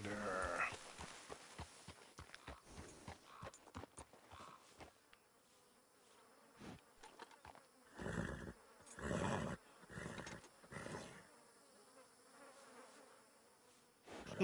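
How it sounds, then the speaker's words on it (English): Flies buzz around a player carrying animal pelts in Red Dead Redemption 2, their droning hum swelling and fading as they circle close, with short louder passes over faint outdoor ambience. "See all the flies buzzing around me? That's because I got the pelts."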